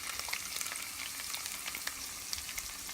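Sliced onions drop into hot oil left from frying potatoes for a meat and potato curry, giving a dense, steady, close sizzle and crackle throughout, with no one speaking.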